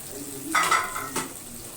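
Ground tomato paste cooks in a pan for mash daal, a soft background sizzle swelling with two brief spoon stirs close by.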